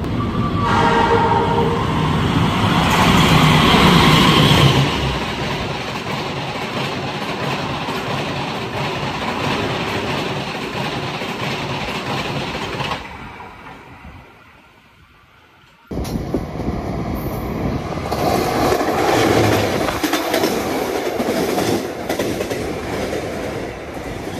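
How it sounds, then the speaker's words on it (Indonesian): Loud roar of the Argo Lawu express train rushing through a station on track 3 without stopping, with a horn at the start, then a sudden drop to near silence before the rumble returns. "ini ada kereta api Argo Lawu yang akan melintas langsung di sini, jalur 3 nih"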